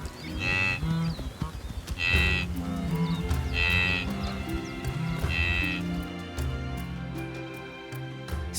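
A herd of migrating wildebeest on open plains makes loud, deep grunting calls at roughly regular intervals over a dense, rumbling bed of low sound.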